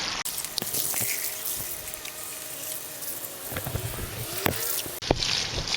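Water splashes and trickles while wet concrete is rinsed off tools after patching a garage floor crack, a steady broadband wash broken by a few sharp clinks and drips.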